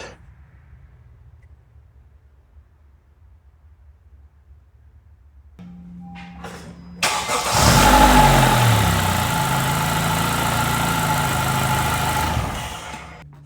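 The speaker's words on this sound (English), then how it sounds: "We always start the engine for a couple of seconds" Quiet at first, then a 2015 Honda Accord's starter clicks and whirs, the engine catches with a loud rev, and it settles into a steady idle before cutting off.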